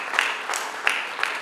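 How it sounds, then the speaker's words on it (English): Brief audience applause at an academic writing workshop for the head of Home Economics, a short burst of moderately loud clapping with a few sharper accents. "a round of applause for"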